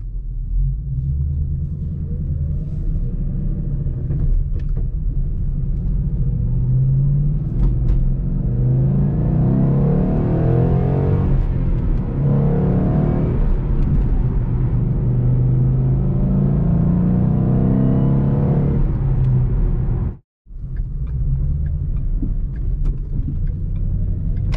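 A stock 2012 Mustang GT with the 5.0 V8 and factory exhaust accelerates hard, a loud continuous deep rumble that rises in pitch as it revs through the run, briefly cut by a gear shift near the end.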